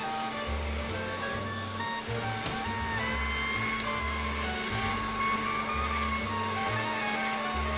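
Pasta machine rolling out thin lasagna dough, a steady whirring motor hum with a repeating low pulsing rhythm, moderately quiet and without talk.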